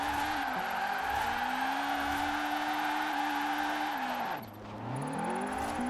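A 700-horsepower Honda Prelude with VTEC in the racing game Forza Horizon 4 drones at high revs from the exterior, dipping sharply during a shift before climbing again, with no talk.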